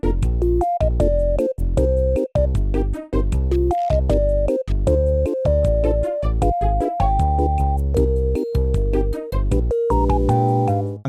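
Piano playing a bossa nova style chord progression, with a steady rhythm of short, distinct chord stabs and moving melody notes over about eleven seconds, no voices.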